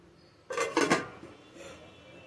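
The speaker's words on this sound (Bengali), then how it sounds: "এটা হাই ফ্লেমে করে এটা চাপা দিয়ে দেবো" A metal lid is set down onto a pot of basanti pulao cooking on high flame, giving a short cluster of clanking knocks followed by a faint rattle, quiet and close.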